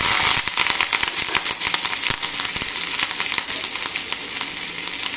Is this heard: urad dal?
yes